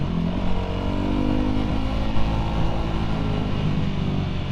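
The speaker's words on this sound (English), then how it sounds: "You're definitely going to be hearing the bike on the external cam" A 2005 Yamaha WR450 dirt bike with an unbaffled muffler runs loud and steady, a dense continuous engine roar with a slight swell midway, close and uninterrupted.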